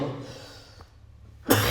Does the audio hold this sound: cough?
yes